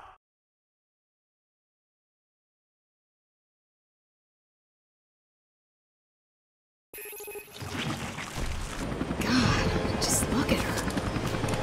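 Helicopter in the video game Resident Evil Revelations 2, its rotor and engine noise arriving suddenly after a long silence and droning loudly under game sound effects and voices.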